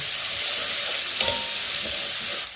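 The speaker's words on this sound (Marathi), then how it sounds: "कांदा फक्त सोनेरी कलर थोडंच पारदर्शक होईपर्यंतच भाजायचं" Onion sizzles steadily in hot oil in a pan for vegetable pulao, a constant close hiss with a faint stir or two and no voices.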